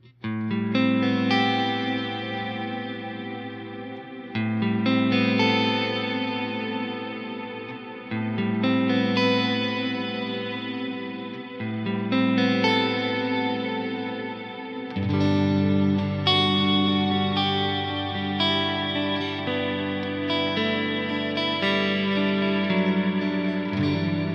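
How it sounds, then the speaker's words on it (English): Sustained chords from an effected instrument through a Neunaber Immerse reverb pedal, bathed in deep, shimmering modulated reverb, long washy tails swelling and overlapping, with a fuller, lower passage joining halfway through. "Listen to how deep that reverb is."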